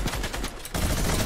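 Sharp Fortnite sniper-rifle shot in the video game, a sudden loud crack cutting in under a second after a run of faint rapid clicks.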